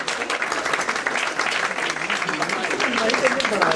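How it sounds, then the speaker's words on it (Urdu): Audience applause at a charity trust event with dance and a fashion show, a dense, continuous clapping crowd lasting the whole moment, fairly loud and close. "ڈاکٹر ملک صاحب کے لیے تالیاں بجائیے"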